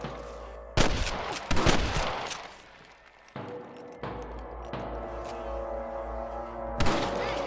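Bursts of gunfire from Red Dead Redemption crackle in loud, rapid volleys, with a couple of brief pauses between flurries of shots over a rumbling battle background.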